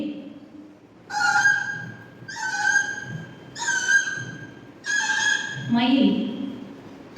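A student's voice mimics a koel in four loud, evenly spaced whistled calls, each a bright rising note with harmonics, followed by a lower, rougher call, with quiet murmuring from a group of schoolchildren in the background.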